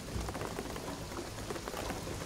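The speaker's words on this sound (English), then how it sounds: "the rain is gonna flood it" Steady, dense downpour of heavy rain in the video game Shadow of the Tomb Raider, a constant hiss of drops hitting surfaces with no voices and no pauses.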